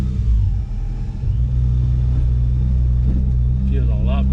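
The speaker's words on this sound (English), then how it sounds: "we're gonna go for a test drive" A Nissan 350Z with about 400 horsepower and new BC coilovers accelerates on a test drive, giving a close, deep engine rumble that rises steadily, heard from inside the car with people talking.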